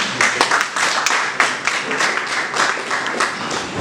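Loud, close audience clapping at a tech hub orientation program in Ebonyi State, brisk irregular claps forming a continuous burst of applause with no speech.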